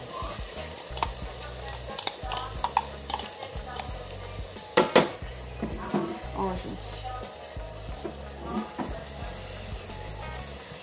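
Chopped onion frying in a pan as part of a rice and onion-topped chop lunch, with a steady crackling sizzle and scraping stirs, one sharper clatter near the middle, and faint speech underneath.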